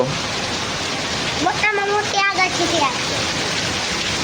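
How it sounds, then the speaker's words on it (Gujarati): Heavy rain pours down in a steady, loud broadband hiss that fills the whole stretch, with voices talking briefly over it in the middle. "જોરદાર છે આજનો વરસાદ"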